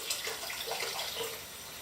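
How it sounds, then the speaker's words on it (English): A steady stream of tap water runs for rinsing film during E6 development, a continuous soft hiss with faint splashing, brief and without speech. "we start getting a little water running"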